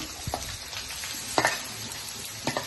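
Curry leaves and sliced onions hitting hot oil, a soft steady sizzle broken by a few sharp crackling bursts and spatula scrapes, close and moderate in volume, with no talking.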